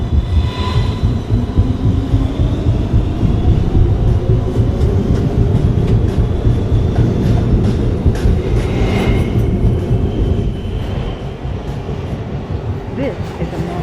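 New York MTA R262 subway train at the last stop, with loud continuous rumbling, rattling wheel noise and clatter from close by, a voice speaking over it.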